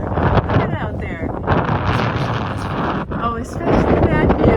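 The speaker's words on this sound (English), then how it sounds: "It's windy, it's freezing" Strong wind buffets the microphone atop a cold lookout tower, heavy rumbling gusts throughout with faint voices mixed in under the roar.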